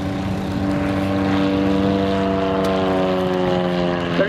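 A high-wing propeller aeroplane performing aerobatics at an airshow drones overhead, a steady loud engine hum with buzzing tones that shift slightly in pitch as it maneuvers, with no voices.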